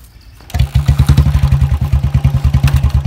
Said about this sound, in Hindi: तो कर लेते हैं बाइक को स्टार्ट।